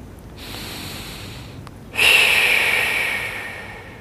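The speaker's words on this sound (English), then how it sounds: "Breathe in deep breaths." One deep, forceful breath during a Pilates deep-core mat exercise: a quiet draw of air, then a louder, rushing breath that fades out slowly, close to the microphone and with no talking.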